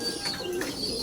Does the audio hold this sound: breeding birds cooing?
yes